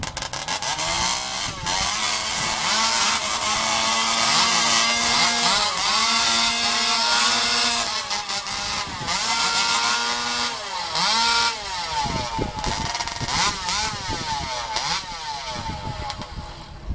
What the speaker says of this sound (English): Now, we're going to let them warm these saws up.